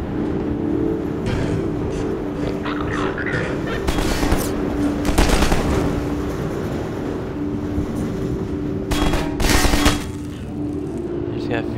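Gunfire bursts in Half-Life 2 sound over a constant droning vehicle or engine hum, with sharp broadband cracks clustered around several moments and a voice talking intermittently.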